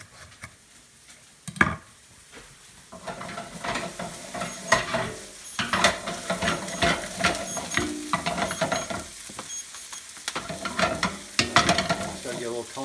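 Onions fry in a pan for lentil dahl, giving a continuous close-up sizzle broken by frequent stirring scrapes and clinks, with a quieter lull near the start and no speech.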